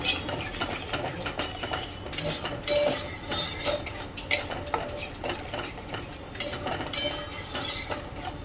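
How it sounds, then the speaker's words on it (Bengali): A spoon stirs and scrapes spice masala with whisked yogurt in a cooking pan for gobindo gatta, making a steady run of nearby scraping and light metallic clinks over a faint frying hiss. "দইটা দিয়ে দিলাম ভালো করে দই দিয়ে কষে নেব"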